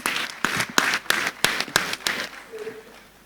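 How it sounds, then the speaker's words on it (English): A modest round of clapping at a law conference session, with a few sharp, separate claps standing out over scattered applause that thins and fades toward the end. "Another round of applause for him, please."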